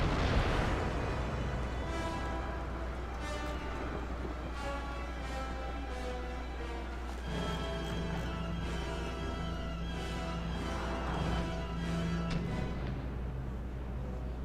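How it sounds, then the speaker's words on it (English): Naval cannon fire from warships trading broadsides in Empire: Total War, with booming shots rolling one after another over a constant low battle rumble. "the battle begins once again with the Archer and the Mexican ship exchanging fire"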